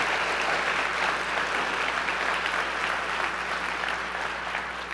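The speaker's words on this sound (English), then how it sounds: "Let's please give Bennett a round of applause" Steady audience applause at a conference keynote, dense and continuous clapping from a large crowd throughout, fairly loud with no voices on top.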